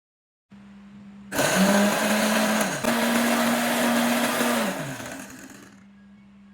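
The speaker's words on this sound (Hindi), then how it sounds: "पहले हम मिर्चें ग्राइंड कर लेंगे।" An electric grinder pulverises dried red chillies into fine powder, starting with a low motor hum and then surging into a loud, steady high-speed whir for a few seconds before spinning down and stopping.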